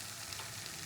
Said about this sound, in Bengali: যতক্ষণ না মশলা তেল ছাড়ছে ততক্ষণ আমি এটাকে কষাবো।